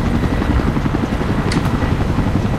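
A video game helicopter drones steadily with a dense, low rotor rumble, loud and constant throughout, with no voices.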